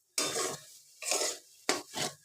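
Paneer and potato being mixed together for a paratha filling, with three bursts of scraping and stirring, a spoon working against a metal bowl, up close with brief pauses between strokes.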